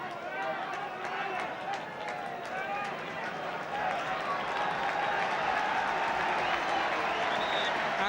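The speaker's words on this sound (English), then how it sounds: "that applause greets the appearance of the Manchester United substitute Sammy McIlroy" Crowd applause at a 1972 Manchester United v Ipswich Town football match, sustained and broad from a large stadium audience, with a commentator talking over it throughout.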